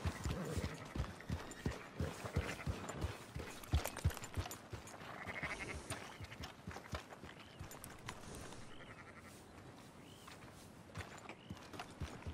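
Sheep bleat softly in Red Dead Redemption 2 amid a stretch of plodding horse hooves and footsteps, all at low level with no speech.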